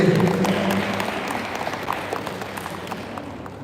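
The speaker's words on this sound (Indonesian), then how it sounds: "Berikan aplaus untuk Ningsih." An audience claps for a performer named Ningsih at a National Children's Day celebration in Batu, with applause starting strong and tapering off over a few seconds.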